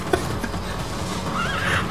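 A horse in the video game Metal Gear Solid V gives a sharp whinny, followed by a rising neigh near the end, over a steady game background with light hoof sounds.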